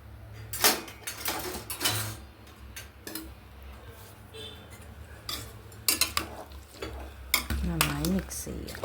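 Meat being mixed with salt, garam masala and turmeric in a pressure cooker, giving irregular close scraping and clinking strokes of a spoon against metal with soft sizzling beneath, quiet and without talk.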